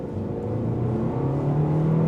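A 2025 Kia K4 GT Line's turbocharged engine hums steadily under acceleration, its droning tone rising slightly in pitch as revs build, heard loud and continuous from inside the car.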